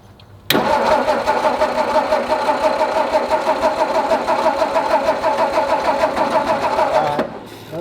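A car engine cranks without firing, a steady rapid starter whir running for about seven seconds before stopping, close and loud.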